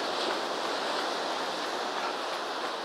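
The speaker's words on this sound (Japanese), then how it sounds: "波の音は高めです。" Steady, broad rushing wash of water, like surf or waves churning continuously, loud and even with no clear breaks.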